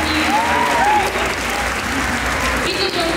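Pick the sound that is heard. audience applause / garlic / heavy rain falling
audience applause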